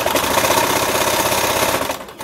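A sewing machine stitching a binding band for a flowing maxi dress, with a fast, steady, close mechanical whirr and needle clatter that slows and stops at the end.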